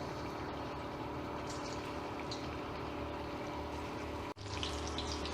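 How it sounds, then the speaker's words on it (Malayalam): Bread pakoda pieces fry in hot sunflower oil, giving a steady, even sizzling hiss that briefly dips near the end and then carries on. "ഞാനിതിപ്പോൾ ചൂടായ എണ്ണയിലേക്ക് ഇതിങ്ങനെ കുറേശ്ശെ ഇട്ട് കൊടുക്കുകയാണ് കേട്ടോ"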